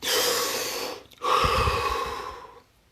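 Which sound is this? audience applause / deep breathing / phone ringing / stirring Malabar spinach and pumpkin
deep breathing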